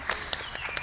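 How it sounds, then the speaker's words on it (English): A brief burst of audience applause at a tourism and hospitality career panel: a few scattered, distinct claps in quick succession, moderately loud in a room. "Let's round of applause"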